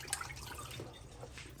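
Faint trickle and drip of water pouring out of a filled drip tray removed from a Jura ENA 4 coffee machine, a quiet continuous splashing with small drops.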